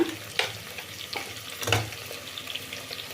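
Tomatoes and spices frying in a pan for chicken gravy, a quiet simmering sizzle with several light spoon taps and scrapes spread across it.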